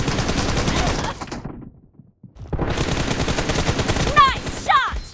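Automatic weapon fire in a team deathmatch shooter video game, loud continuous bursts that pause briefly midway, then resume with a few sharp game effect chirps near the end.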